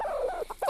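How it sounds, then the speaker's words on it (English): Farm chickens giving a close, loud run of warbling, gobbling clucks in quick broken bursts with brief gaps. "The chickens are from a local farm and are destined for the table anyway."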